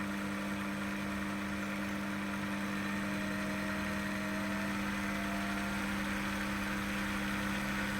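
A Proxxon PD 250/E benchtop lathe motor runs steadily at around 2500 rpm, a continuous close hum with a strong low tonal drone and an even mechanical whir, with no voices.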